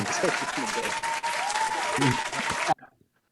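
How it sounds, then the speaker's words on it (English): Dense burst of hand clapping applause, steady and close for under three seconds before cutting off abruptly into near silence, with a voice talking faintly underneath. "you got the clapping hands"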